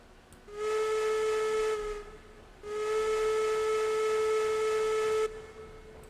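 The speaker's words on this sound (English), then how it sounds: "Two whistles because we're moving forward." A steam locomotive whistle in the train game RailRoads Online, two loud sustained steamy toots, a short first blast followed by a longer second, with no talk over them.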